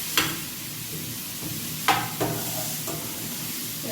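Chopped scallions with seasoning sautéing in a pan, a soft continuous sizzle with occasional spoon clinks and scrapes close by.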